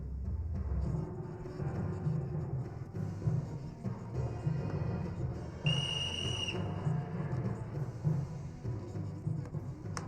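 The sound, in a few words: whistle blown, blamed on a parrot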